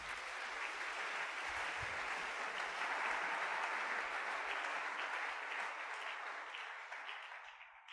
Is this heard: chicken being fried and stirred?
no